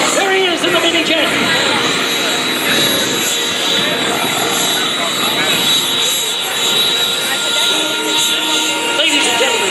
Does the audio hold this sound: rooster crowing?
no